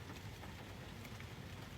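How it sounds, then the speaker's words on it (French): Soft, steady rain falls during a trip in Thailand, a faint, even hiss with no speech. "Il pleut de plus en plus,"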